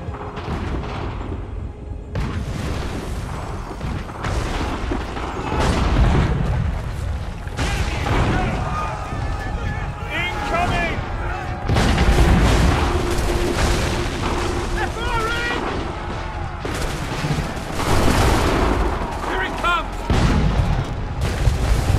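Cannon fire in Assassin's Creed III, with repeated booms and rumbling blasts layered over continuous battle noise, loud and sustained throughout as voices shout in the background.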